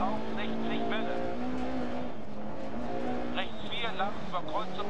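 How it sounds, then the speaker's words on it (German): A rally car in the Dirt Rally PC racing game is thrown sideways into a corner on a dirt stage, its engine loud and continuous, revving and whining up and down through gear changes, with a German commentator talking over it. "Da werfe ich das Auto so ein bisschen mit in die Kurve rein."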